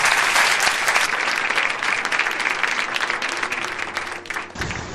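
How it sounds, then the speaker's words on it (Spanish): Studio audience applause for a guest on a radio programme, a full, continuous burst of many hands that thins slightly near the end before cutting off. "Pido un aplauso para él y gracias por haber estado en el programa."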